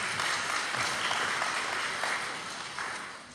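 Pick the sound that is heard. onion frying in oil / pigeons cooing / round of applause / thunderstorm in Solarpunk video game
round of applause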